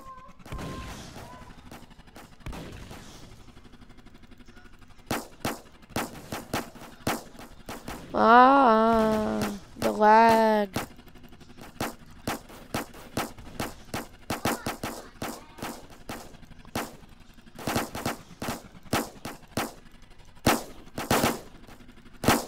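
Gunfire in the Roblox game Armored Patrol rings out as sharp repeated shots and short automatic bursts, irregularly spaced and loud, with a distorted voice-like tone in the middle.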